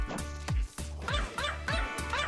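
A small dog yips and barks sharply several times in quick succession, close and loud, with short high-pitched bursts between brief pauses.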